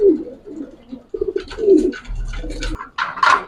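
Racer pigeons at a pigeon farm give several soft, throaty coos in short bursts, close by, with a brief low hum underneath midway.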